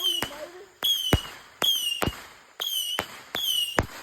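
Fireworks go off outdoors in June: five sharp, loud bangs at roughly even intervals, each followed by a fading ringing tail.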